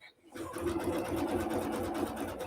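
A sewing machine runs steadily, stitching over wire and little metallic mylar stems for a handmade Christmas gift, a close, continuous rapid whirring and ticking that starts after a brief quiet moment.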